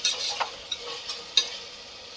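Salted tomatoes are stirred in a frying pan for prawn dum biryani, giving short scraping strokes over a faint, steady sizzle.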